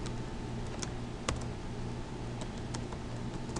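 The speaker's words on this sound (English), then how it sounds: "So I type in delete," Someone types a command at a computer keyboard, producing a steady run of quiet key clicks with a few sharper taps, including a firm keystroke near the middle, and no talking.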